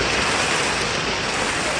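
Heavy rain pours down as a steady, dense, even hiss with no break, loud and close throughout.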